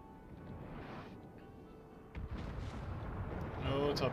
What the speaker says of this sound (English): Oh, torpedoes are going right into him.